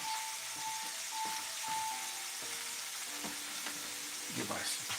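Pork sausage fries and sizzles steadily in a pan, a dense close crackle broken by occasional scrapes and stirring knocks, with no talk.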